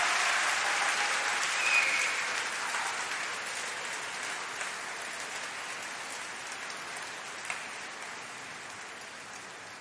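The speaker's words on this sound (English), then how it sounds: "I think we need to give a huge round of applause to the academics behind me" A graduation ceremony audience applauds, a steady even patter of many hands that starts full and slowly fades across the hall, with no speech over it.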